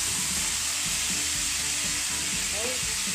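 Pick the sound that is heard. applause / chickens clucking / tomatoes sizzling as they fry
tomatoes sizzling as they fry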